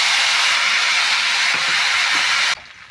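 Spice paste hitting hot oil in a wok for a Bengali matar paneer, a loud, dense steady sizzle that carries for about two and a half seconds before cutting off sharply to a faint hiss.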